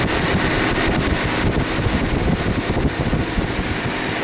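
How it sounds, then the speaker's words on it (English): A Portacool evaporative cooler with a 1 horsepower motor runs on high, powered by an A-iPower SC2000 Yamaha generator, producing a loud, steady, close rush of moving air with an underlying low motor hum throughout. "And I have this fan, this Portacool running from it."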